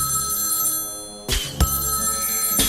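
A phone rings in the South Park: The Stick of Truth video game, with two loud, bright bursts standing clear of a steady background music bed.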